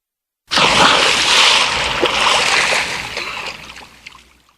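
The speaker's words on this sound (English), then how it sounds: "Splash." A splash of water, a broad wash of noise that sets in abruptly, holds loud for a few seconds and then fades out, alone with no voices.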